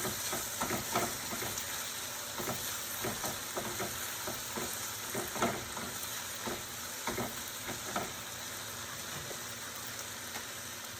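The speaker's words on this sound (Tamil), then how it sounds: "அதுக்குள்ளே நம்ம இங்கே அகத்திக்கீரை போட்டதை வதக்கிக்கலாம்." Agathi spinach leaves sautéing in a pan, a steady low sizzle with soft irregular scrapes and stirring taps from a spatula, fairly quiet and continuous with no talk.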